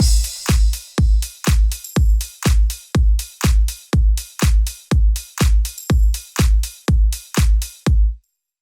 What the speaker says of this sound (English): We need a crash sound to give more impact at the start of every section of the track.